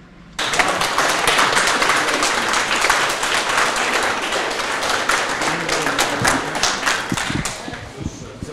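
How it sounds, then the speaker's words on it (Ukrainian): Dense applause for wounded Ukrainian soldiers at a hospital visit, steady and sustained, with a few sharper individual claps standing out near the end. "Це ми вам аплодуємо."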